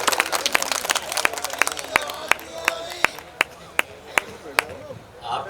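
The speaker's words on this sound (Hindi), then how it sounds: "5 मिनट एक बार जोरदार तालियों से बुलाइए।" Audience at a mushaira breaking into applause, with scattered sharp claps standing out over a dense wash of clapping and murmuring crowd.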